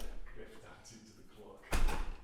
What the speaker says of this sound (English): I'm going to open this door.